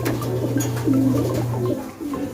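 A racing pigeon coos close by: a low, throaty, rolling coo that lasts about two seconds, with a few softer murmurs after it, in a quiet setting with no talking.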